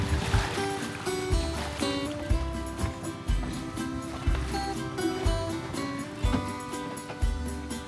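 A traditional wooden fishing boat's engine chugs steadily with a rhythmic low thumping, loud and close, running continuously throughout, near Labuan Bajo, Flores, Indonesia.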